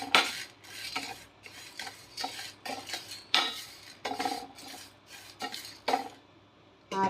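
Metal utensils scrape and clink against a pan while roasted spices for garlic kuzhambu are stirred and moved, in irregular close bursts with short pauses between strokes and no talking.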